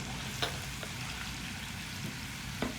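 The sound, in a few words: vegetable pieces frying in hot oil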